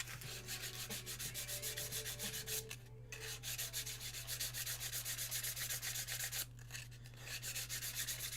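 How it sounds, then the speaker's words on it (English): A figure's sculpted hair is sanded by hand with 1000 grit sandpaper, a steady rhythmic rubbing scrape repeating quickly and close, over a constant low electrical hum, with a couple of brief pauses. "now we're at the 1000 grit sandpaper"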